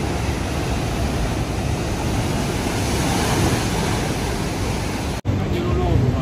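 Loud, continuous roar of rough Atlantic surf crashing nearby at Puerto de la Cruz, Tenerife, a dense wash of noise that briefly cuts out near the end before resuming.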